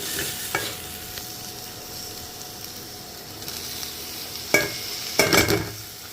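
Tomatoes dropped into a frying pan of well-fried onions for a brinjal tomato curry, giving a low steady sizzle with stirring scrapes and a few louder clattering bursts near the end, no talk.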